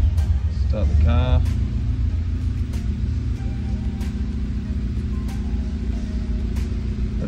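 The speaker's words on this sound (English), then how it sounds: "Start the car." A Honda car fitted with a Hondata Kpro and a Powertune digital dash cranks and fires up, a short burst of starter whir giving way to a steady low engine idle that rumbles on close by, with a voice briefly audible.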